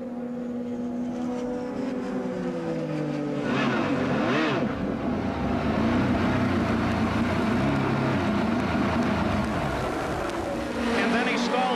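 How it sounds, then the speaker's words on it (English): An Indy race car engine during a pit stop at the 1995 Indianapolis 500 revs and warbles, then loses power and stalls, with a race commentator talking over it. "Listen very carefully to the engine."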